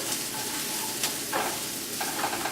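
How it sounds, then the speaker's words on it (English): Chicken and eggplant mixture frying in a pan, a continuous close sizzle with a few scraping strokes of a spatula as it is stirred, no voices present. "Then just give it another stir."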